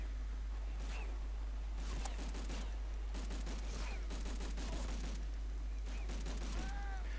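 Gunfire from Medal of Honor: Frontline rattles in several quick bursts over a steady low hum, the shots moderately loud and spaced across the stretch with short pauses between volleys.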